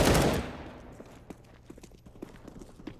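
A burst of gunfire in Counter-Strike on the Mirage map, one loud shot at the start decaying quickly, followed by a run of fainter, scattered clicks and distant reports.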